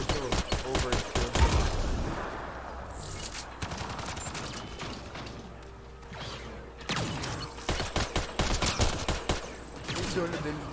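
Rapid bursts of gunfire and heavy weapon blasts from a sci-fi shooter, Mass Effect: Andromeda, come in dense volleys with mechanical clanks between them, while a voice speaks over parts of the action.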